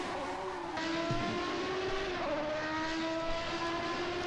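Race cars overtaking at Interlagos in the Assetto Corsa racing game, a continuous layered drone of several engines at steady revs, one rising in pitch as it passes, with no talk.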